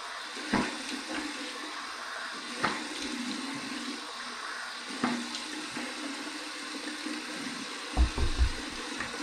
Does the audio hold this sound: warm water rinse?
yes